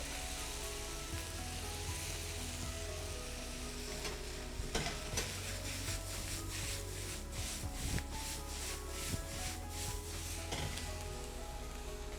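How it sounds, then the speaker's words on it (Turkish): Blanched fresh spinach sizzles faintly while being heated in a pan, with a low steady hiss and a run of rhythmic scraping stirs in the middle. "önceden sıcak suya 2 dakika batırıp çıkardığımız ıspanakları atacağız şimdi. Onları ısıtıyorum."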